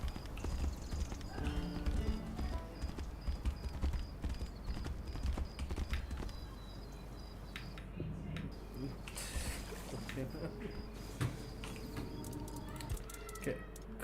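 Horse hooves clip-clop steadily in a Red Dead Redemption-style video game as Arthur rides, a continuous rhythmic trot under background game sound and music, with the horse jumping over water.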